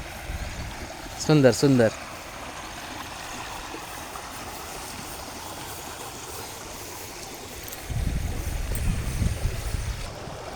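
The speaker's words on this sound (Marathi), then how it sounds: "शेतीच्या बाजूला हा छोटासा ओढा ज्याला आपण म्हणू शकतो धबधब्याची ओहळ" A small waterfall-fed stream beside farm fields in green hill country gives a steady soft rushing flow, briefly interrupted by someone speaking, with a rougher surge near the end.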